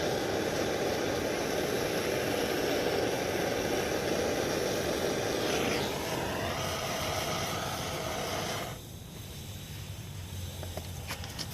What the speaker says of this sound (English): Alright, so now our pilot light's burning good.